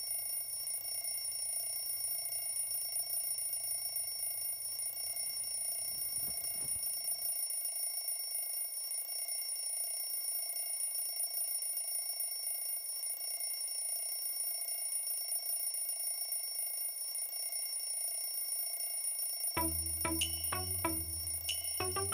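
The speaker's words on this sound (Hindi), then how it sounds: "यार रूमी उठो, अपना अलार्म बंद करो।" An alarm clock keeps ringing in a morning bedroom, a continuous high electronic tone, joined near the end by a brief low musical sting.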